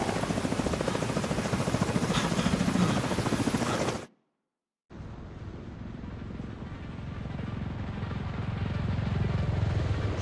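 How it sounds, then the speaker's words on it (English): An extraction helicopter in The Division 2 sounds as a loud, steady rotor thrum and engine roar, briefly cutting to near silence before the chopper noise resumes at a slightly lower level. "we need to get Chernenko on that extraction chopper now."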